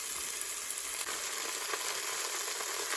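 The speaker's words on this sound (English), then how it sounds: "I'm sure you can hear that. It's starting to sear the meat." Beef sears in a Cosori pressure cooker on its saute setting, giving a steady, even hiss of frying meat that stays close and constant for the whole stretch, with no voices over it.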